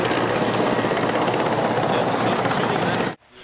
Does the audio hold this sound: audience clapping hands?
no